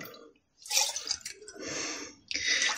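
Melted homemade butter ghee poured from a pan into a dry glass jar in a kitchen, giving a few liquid trickling and splashing bursts with brief pauses between pours, close and fairly quiet.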